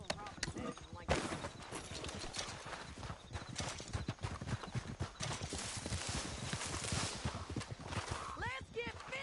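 Horse hooves clip-clopping rapidly in Red Dead Redemption 2, a dense, close galloping rhythm with a neigh near the end, under urgent shouted voices.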